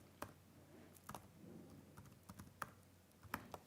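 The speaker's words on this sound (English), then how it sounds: "I can type the" Keys on a computer keyboard tapped in short uneven bursts, a few sharper clicks standing out, close and quiet with no talking.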